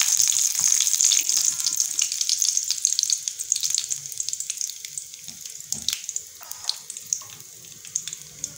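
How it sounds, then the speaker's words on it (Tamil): Curry leaves fry in hot oil for a spicy chicken gravy, giving a bright, crackling sizzle that is strongest at first and then settles into fainter spitting pops, close by with no talking. "இதை காஞ்சிடுச்சு கருவேப்பிலையை நம்ம போட்டுக்கலாம்"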